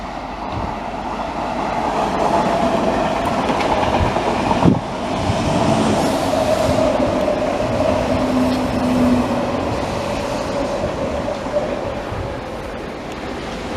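Railway wagons are pushed through the Le Bourget gravity shunting yard in France. A loud, continuous rolling rumble carries a high wheel squeal, with one brief clank partway through.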